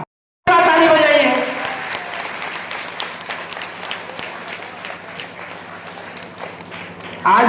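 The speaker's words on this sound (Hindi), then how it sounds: "ताली बजाइए।" Dense crowd applause at a political party rally in a Pharenda assembly constituency hall in Uttar Pradesh bursts in loudly, then settles into steady clapping that carries on to the end, with scattered voices mixed in.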